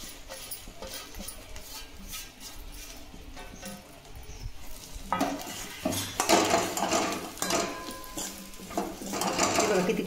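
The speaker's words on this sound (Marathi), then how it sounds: "याच्यामध्ये मी ही भेंडी टाकते" Okra dropped into a pan of fried masala and stirred, giving scraping, clattering pan noises that grow busier and louder partway through.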